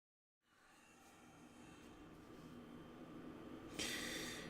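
A person blows their nose close to the mic, a long breathy honk that swells and ends in a sharper, louder burst.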